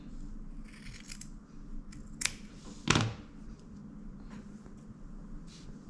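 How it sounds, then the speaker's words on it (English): Scissors snip knotted yarn ends during crochet work, a few quiet close snips with one or two sharper cuts over low background noise. "you're just gonna trim them so they match"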